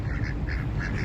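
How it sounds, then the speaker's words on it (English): A white duck quacks outdoors, giving a brief run of nasal calls close by over a low rumbling background. "look at this white duck"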